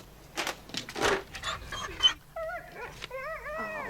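A dog panting heavily in quick breathy bursts, then letting out a series of high, wavering whimpers and whines, close and clear.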